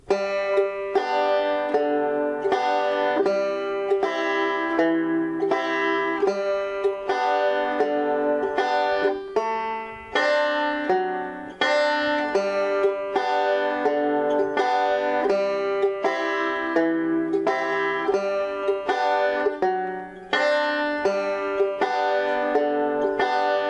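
A banjo plays a steady, basic picking rhythm over the tune "Boiled 'em Cabbage," bright plucked notes repeating evenly at a moderate tempo with no voices.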